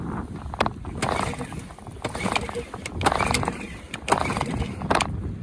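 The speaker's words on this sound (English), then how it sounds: "I've got the motor going." An 8 horsepower Johnson outboard motor running on a fishing boat on Lake Taupō, a steady close engine drone mixed with wind buffeting and water slaps.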